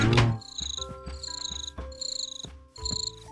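Cricket chirping in the video game Minecraft: repeated bursts of high trilling chirps in a steady rhythm, mixed with soft game tones, close and clear with no talk.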